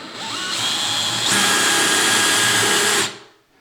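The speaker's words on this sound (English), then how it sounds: "those holes I just drilled" A power drill bores pilot holes through drywall into plywood backing, a steady loud whine that rises in pitch partway through, runs about three seconds and then winds down.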